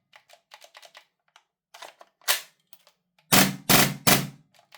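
A Vorsk VMP1 airsoft gun fitted with an HPA adapter fires a few loud, sharp shots after a stretch of light clicking and handling. The last shots come in a quick cluster, but it never sustains a long automatic burst.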